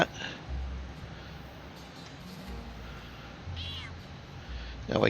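A cat meows a few times in a video game, short mid-pitched calls spaced apart over low ambient game background, with a faint voice in places.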